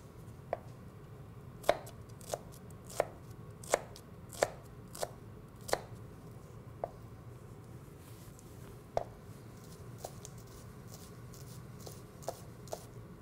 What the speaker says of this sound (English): So that's how we cut our shallots.